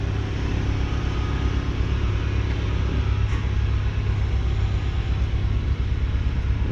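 Close and constant, the twin-turbo V6 exhaust of a 2016 Cadillac ATS-V coupe rumbles at a low, steady idle, with only a faint hint of revving and no voices.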